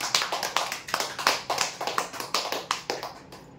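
Applause for a prize winner at a lucky draw event, a short burst of close, uneven hand clapping from a few people that fades toward the end.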